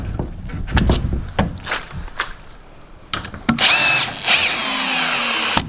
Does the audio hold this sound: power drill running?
yes